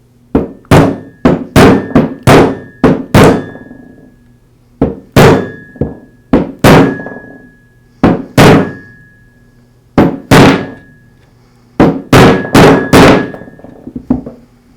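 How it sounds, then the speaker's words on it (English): A bearing is tapped onto a Porter Cable router shaft with a socket, giving a close, loud series of sharp hammer-like knocks in quick clusters of two to five, with brief pauses between groups and a faint ringing tone after some strikes. "I'll tap it into place."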